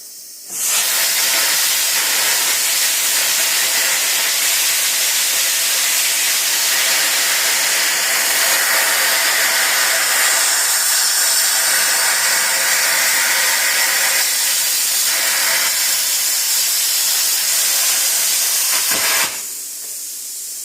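An iTech plasma cutter slices through thin metal with a loud, steady roaring hiss of air and arc that runs about eighteen seconds, then cuts off abruptly, leaving a quieter hiss.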